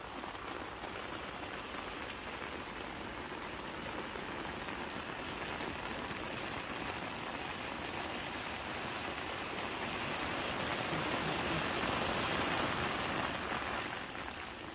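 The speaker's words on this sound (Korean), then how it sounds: "우산에 떨어지는 빗소리를 들어봅니다." Rain patters on an umbrella held in a garden outdoors, a dense, steady hiss of drops close by that swells slightly toward the end, with no voices.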